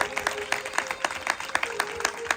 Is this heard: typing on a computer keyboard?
no